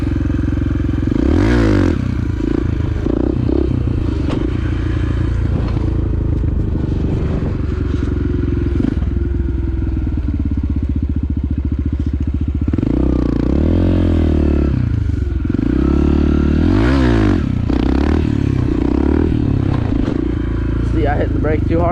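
A motorcycle engine revs and surges hard while the rider lifts the front wheel, with loud throttle blips and changing pitch. There is clatter and scraping, and a voice speaks intermittently over the close, continuous engine roar.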